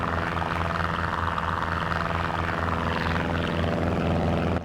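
In Microsoft Flight Simulator, a small plane without landing gear cruises with flaps up, its engine and propeller producing a steady, loud droning hum with a low pulsing beat throughout.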